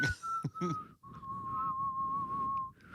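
A person whistles a sustained, steady tone close up, with a few short warbling notes at the start and a quiet breathy background underneath.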